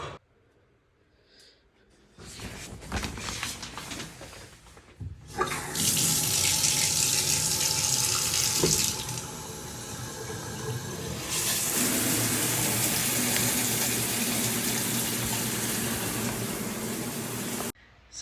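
Shower water runs at home, first a quieter trickle, then a loud, close, continuous hiss and spray after the flow opens up, with one brief drop before it resumes steadily to the end.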